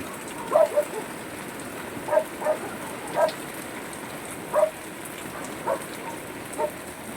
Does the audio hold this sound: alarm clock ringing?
no